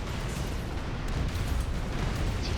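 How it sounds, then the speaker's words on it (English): Tesla torpedoes bursting in big area-effect explosions among enemy groups in the space strategy game AI War 2, a dense, continuous rumble of overlapping booms and pops with no speech. "these Tesla torpedoes are really good against groups of enemies. Because they do big air effect explosions."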